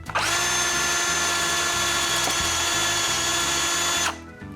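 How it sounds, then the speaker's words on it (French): A power drill bores holes in a wooden window frame at a cabin, its loud, steady whine running for about four seconds before stopping abruptly. "Je frappe sa barrure, ça me donne une petite marque que j'utilise pour m'aider à percer les trous."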